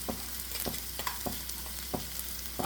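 Okra tossed with masala in a hot pan, a steady sizzle of frying with regular scraping strokes of a spoon about every half second, close and alone.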